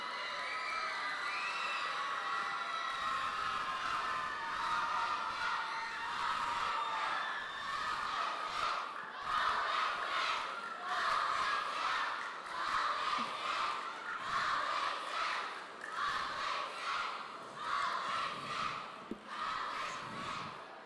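A crowd of children at a charity gala cheers, shrieks and whoops in waves, a loud, sustained din of young voices that swells and surges for the whole stretch.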